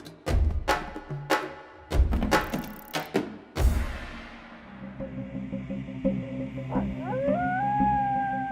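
Loud percussive hits ring out at the start and give way to a drawn-out, rising and gliding wolf howl that carries over a sustained low drone.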